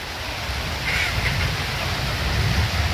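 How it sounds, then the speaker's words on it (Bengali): Rain falls steadily outdoors near a poultry shed, making a broad, even wash of noise that rises slightly partway through, with wind rumble underneath and no speech. "বৃষ্টি হইতেছে"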